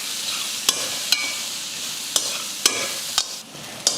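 Onions, chillies, garlic and curry leaves fry in oil with a steady crackling hiss, broken by sharp clacks of a spoon stirring the pan every half second or so, close and with no talking.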